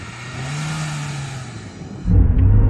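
A Lada off-road car's engine holds a steady raised idle with revs up before a clutch bite, then surges louder into a deep, heavy launch rumble close by.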